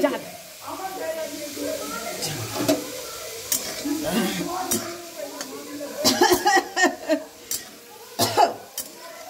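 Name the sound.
potatoes frying in oil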